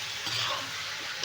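Food frying in a pan is stirred steadily, with a continuous close sizzle and light scraping of the spoon against the pan, fairly quiet throughout.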